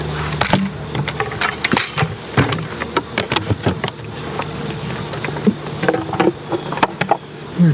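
Honey bees buzzing around an opened hive during a mite treatment check, a thin continuous drone close by, broken up by irregular clicks and knocks of handling.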